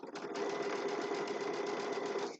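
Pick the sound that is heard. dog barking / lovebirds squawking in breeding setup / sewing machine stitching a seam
sewing machine stitching a seam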